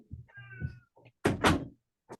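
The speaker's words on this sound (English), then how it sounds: "I'm gonna shut my door." A door is shut with a heavy double thud, preceded by a cat meowing and a few small knocks nearby in a quiet room.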